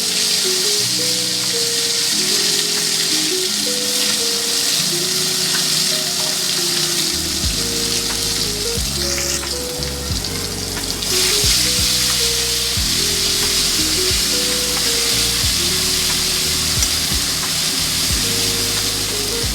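Paste of ground ginger, garlic, onion, cumin, coriander and dried red chili frying in a wok, a loud steady sizzle running throughout, with low thumping stirring noises joining partway through.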